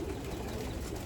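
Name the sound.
racing pigeons, young birds crying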